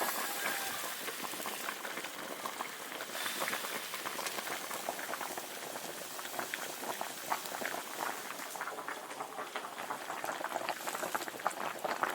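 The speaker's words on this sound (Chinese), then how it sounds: "水开了，把鱼下进来" Water bubbles at a rolling boil in an iron wok, a dense, continuous gurgling and popping that stays steady throughout with no voices.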